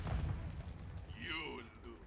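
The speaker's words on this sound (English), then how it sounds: "Grenade out! Grenade out!" A grenade goes off in a shooter video game, a deep booming blast at the start that fades under a voice and other game sounds.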